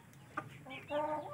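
Aseel Parrot chickens kept in a coop give a few soft clucks and short calls nearby, faint and brief against a quiet, hushed background.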